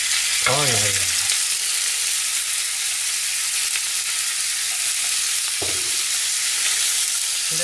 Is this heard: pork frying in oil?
yes